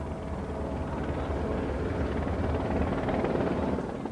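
A helicopter operating from the light aircraft carrier HMS Invincible gives off a steady, loud rotor and engine drone with a low rumble. The sound holds constant throughout and no voices are heard.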